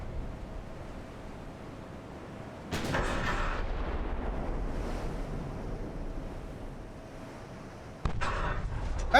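Ironclad warships, CSS Virginia and USS Monitor, trade fire at Hampton Roads in Ultimate Admiral: Dreadnoughts. Heavy booming gun blasts stand out against a constant roar of sea and wind, with one burst near the start and another near the end.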